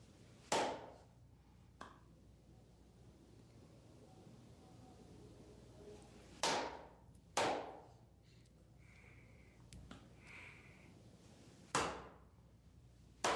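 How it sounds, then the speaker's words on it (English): Sharp slaps on skin during a bonesetter treatment ring out as a few loud, close, isolated smacks spaced several seconds apart, with quieter rubbing and shuffling between them. "The skin rubbing, the slapping."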